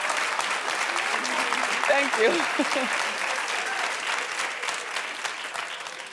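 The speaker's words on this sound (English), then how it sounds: "Just laughing and clapping." Sustained audience applause and clapping from a comedy show crowd fills the whole stretch, dense and steady, with a voice speaking briefly over it near the middle.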